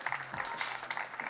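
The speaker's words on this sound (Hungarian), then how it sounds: "Persze, tapsot előbb." Audience applause at a fashion show, a brief burst of steady clapping that fills the moment without a break.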